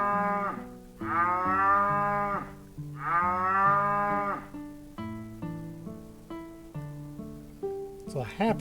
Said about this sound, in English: It's a happy cow.